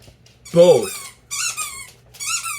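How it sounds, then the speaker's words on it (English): Squeaky dog toy squeezed a few times up close, giving sharp high rubbery squeals in bursts over a steady low hum, with a person talking nearby. "apologies for my dog's toy."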